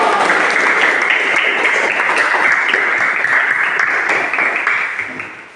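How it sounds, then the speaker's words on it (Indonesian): Applause for a student group in a classroom, a sustained loud wash of clapping from many hands that fades out at the end. "kita berikan aplaus buat kelompok 4"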